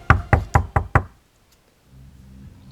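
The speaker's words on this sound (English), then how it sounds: "there was knocking back on the door, over and over, as if waiting for a response" Five sharp knocks on a locked door come in quick, even succession, loud and close, followed by near silence and then a faint low hum.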